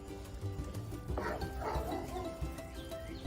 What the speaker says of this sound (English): And that's our neighbor's dog.